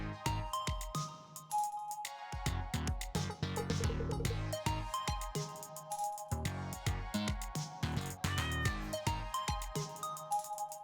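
A pet cat in a video game meows repeatedly in short, clear calls with gaps between them, over light game chimes.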